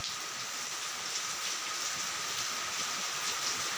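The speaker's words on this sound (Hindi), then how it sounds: "देखिए कैसा बारिश हो रहा है इधर" Heavy monsoon rain pours steadily during the Sawan season, a dense unbroken hiss of downpour on surfaces that stays constant and fairly loud throughout, with no voices.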